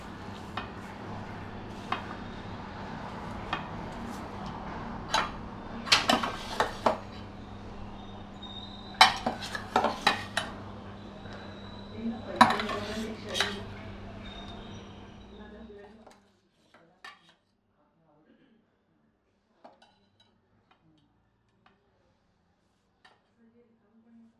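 Sorghum (jowar) flour being mixed into dough in a metal vessel, heard as bursts of clinking and scraping of a utensil against the vessel for about fifteen seconds, then near silence.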